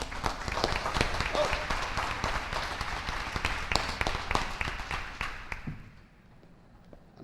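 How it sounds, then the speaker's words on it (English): Audience applause at a school board meeting, a moderate patter of clapping from a modest crowd that carries on for several seconds before dropping away near the end, with a brief spoken exclamation and some talk underneath. "so round of applause"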